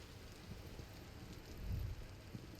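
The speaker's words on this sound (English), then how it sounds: "Oh, listen to the rain outside." Rain falling outside in the video game Vintage Story, a soft, steady hiss with faint low rumbles, heard quietly and alone.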